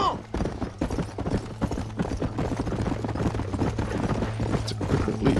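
Rapid rhythmic hoofbeats of a galloping horse in the video game Red Dead Redemption, continuous and close, with a steady low hum running beneath.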